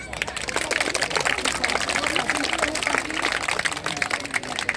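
Outdoor audience applause at a Brazilian jiu-jitsu demonstration at a picnic, a steady crackling wash of clapping hands sustained for several seconds with voices mixed in.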